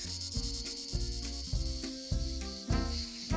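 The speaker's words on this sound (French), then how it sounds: "j'entends une cigale" A cicada sings in a tree in the Hérault countryside, a steady high-pitched drone running throughout beneath louder rhythmic music.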